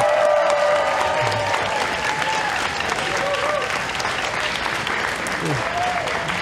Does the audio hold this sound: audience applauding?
yes